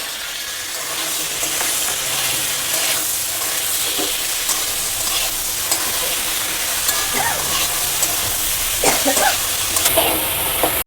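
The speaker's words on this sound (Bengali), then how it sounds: "আমি এর সঙ্গেই মশলাগুলো কষিয়ে নেব। তো টমেটো দিলাম" Tomatoes are added to fried potatoes and spices in a pan for a prawn and okra poppy-seed dish, giving a steady loud sizzle and crackle with occasional stirring scrapes throughout.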